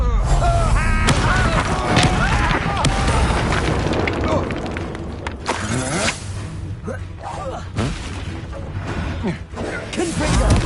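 Blasting explosions from the Confringo spell in Hogwarts Legacy, loud booms and shattering bursts repeating over about ten seconds amid dense game combat noise, with speech mixed in.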